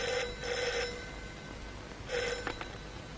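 An old telephone bell rings in an office in two short double bursts separated by a pause, moderately loud and alone, followed by a faint click.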